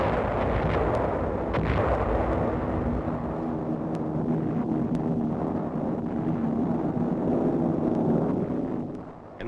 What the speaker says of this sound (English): the destroyers and cruisers move in to join the air attack with a heavy bombardment